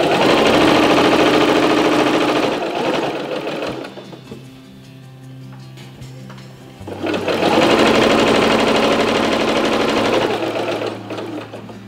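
A sewing machine runs a seam on a linen tea towel in two long, loud, steady bursts, with a quieter humming pause between them.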